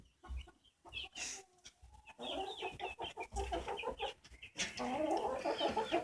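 Chickens cluck in a brooder box kept inside a coop, with short clucks and calls repeating in irregular bursts close by. The calling grows busier and denser toward the end.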